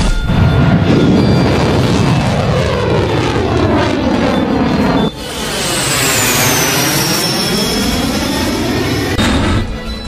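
A Chengdu-built J-10C fighter jet flies past with a loud, roaring jet-engine sweep whose pitch shifts as it approaches and recedes, followed by a second rushing pass, with no talking.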